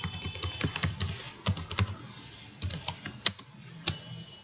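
SQL query being typed on a computer keyboard, with irregular bursts of close, crisp key clicks, short pauses between groups, and one sharper, louder keystroke near the end.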